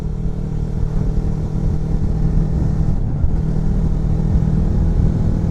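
Kawasaki Versys X Tourer motorcycle engine running steadily and loud throughout, a low continuous drone with a slight dip near the middle, no voices.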